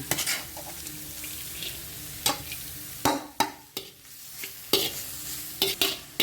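Carrots and cabbage are stir-fried for homemade kottu roti: sharp, irregular spatula scrapes and clacks against the pan over a quiet, low sizzle, with no voices.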